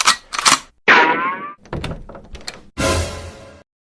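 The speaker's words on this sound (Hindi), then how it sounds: "अरे घंटी बजी, घंटी बजी।" A doorbell rings in a home during a Hindi Raksha Bandhan family skit, a single close tonal chime with a falling pitch set among nearby thumps and knocks, with no voices.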